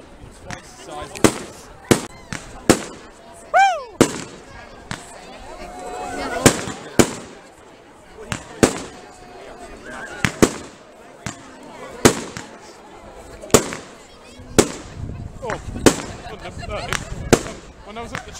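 Bonfire Night fireworks going off in the distance outdoors, a steady run of sharp bangs and crackling bursts every second or so with one whistling rocket rising, while a voice talks over them.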